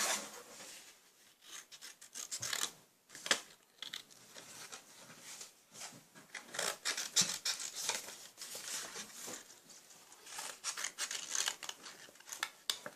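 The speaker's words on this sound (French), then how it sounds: "Donc je vais découper." Scissors snip through paper while cutting out a hand outline traced on it, giving a run of quiet, close, irregular crisp snips and rustles.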